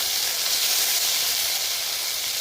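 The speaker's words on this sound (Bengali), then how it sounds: "তেল গরম হয়েছে, মশলাগুলোকে এক এক করে দিয়ে দেব" Pastes of cumin and ginger sizzle steadily in hot oil in a pan, a continuous close hiss with no talk.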